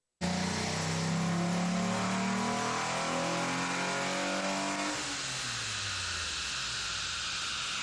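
A Mitsubishi Eclipse fitted with a stainless thermal muffler revs hard on a dyno, its engine note climbing steadily through the gears and then dropping as it backs off, loud and close with no talking.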